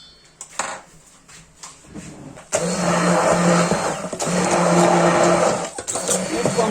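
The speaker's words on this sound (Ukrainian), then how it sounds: "Так, мабуть, візьму блендер" A hand blender mixes scalded crepe batter made with boiling water. A few clatters come first, then a loud, continuous whir starts midway and runs to the end with brief dips.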